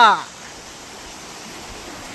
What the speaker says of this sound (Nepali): हेर्नु साथीहरु, कति फोर्समा चलेछ पानी।